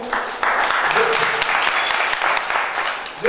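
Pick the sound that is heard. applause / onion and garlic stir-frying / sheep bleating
applause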